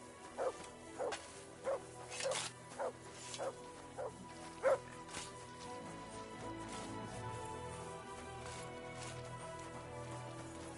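A dog in the medieval role-playing game Kingdom Come: Deliverance II gives a series of short, sharp barks and yips in the first half, spaced irregularly over steady background game ambience and music.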